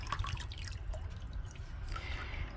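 Water drips softly from a bar of soap wrapped in wool just after being dunked while making felted soap, with a few faint drops and light wet sounds against a low background, quiet and close, without talk.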